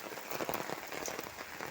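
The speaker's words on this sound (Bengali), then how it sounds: "প্রচণ্ডভাবে বৃষ্টি হচ্ছে।" Heavy rain pours down beside a village pond, a dense steady hiss of drops striking water and ground, fairly close and continuous with no voices.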